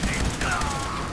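Gunfire bursts in a Fallout 4 firefight, dense and steady across the whole moment, with a voice speaking over the shooting.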